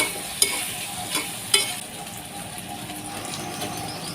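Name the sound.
stirring and cooking small fish with turmeric and coriander powder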